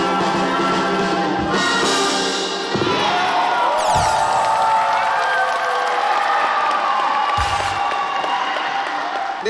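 Audience applause and cheers at a school wind orchestra concert, loud and sustained with a few thuds and a brief voice.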